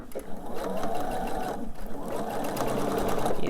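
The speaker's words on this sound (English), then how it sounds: "I'm going to sew these in the same manner. Again, nice and slow." A sewing machine stitches fabric seams slowly and evenly, its close mechanical whir rising and falling in steady runs with faint needle clicks.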